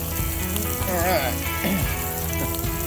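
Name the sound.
sausage browning and sizzling in a pan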